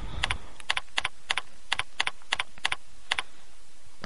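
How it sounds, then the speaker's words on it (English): Quick keystrokes on a computer keyboard while a name is entered into a sign-up form, a dozen or so crisp clicks landing in small uneven clusters, close and clear against a quiet background. "Start by typing in our name."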